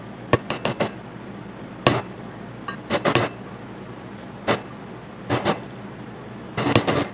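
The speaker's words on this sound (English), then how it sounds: "and hit it with a hammer." A hammer strikes a center punch set on a broken exhaust stud of a KA24DE engine in a 240SX, giving sharp metallic taps in irregular bursts, some single, some in quick clusters of two to four, close and loud.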